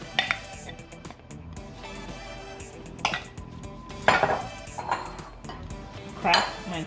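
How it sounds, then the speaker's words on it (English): Margarine is added to sugar in a mixing bowl for a lemon cake, producing clinks and knocks of utensils against the bowl, with scattered louder clatters and faint talk in the background. "And then I'm going to add in the margarine."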